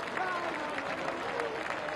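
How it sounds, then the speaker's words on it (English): Warm applause from the crowd at Hagley Oval cricket ground during a T20 international between New Zealand and Pakistan, a steady wash of clapping heard under a commentator's voice. "And a warm round of applause here at Hagley Oval"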